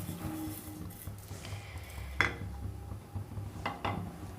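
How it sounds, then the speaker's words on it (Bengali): Soaked china grass and sugar are stirred in a pot on the stove, with scattered light scrapes and clinks of a utensil against metal over a quiet background hum. "এবার এটাকে আমি অনবরত নাড়তে থাকবো চায়না গ্রাসটা যতক্ষণ পর্যন্ত না গলে যাচ্ছে"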